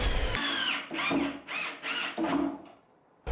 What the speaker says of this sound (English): then attaching them, and then driving in screws